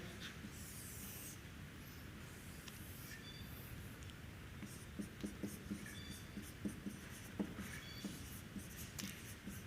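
Chalk or marker scratching across a board during a physics lecture on electrostatics and Coulomb's law, faint and steady under room hiss, with small tapping strokes toward the end.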